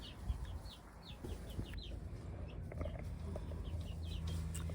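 Chickens in a small backyard coop, with soft clucks and chirpy calls scattered over a steady farmyard background, fairly close and moderately loud.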